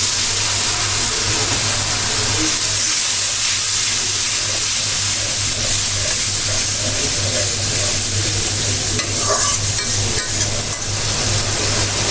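Spice paste for a Bangladeshi poa fish curry sizzling steadily as it is sautéed in a pan, a loud continuous hiss with a low steady hum underneath throughout.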